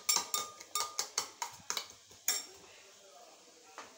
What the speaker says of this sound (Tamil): இப்போ இந்த முட்டையை நல்லா அடிக்கணும்.